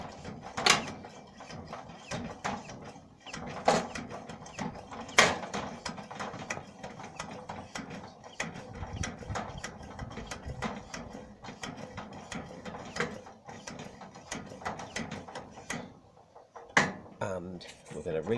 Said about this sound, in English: So first of all, I'm going to put some pressure in to the stove.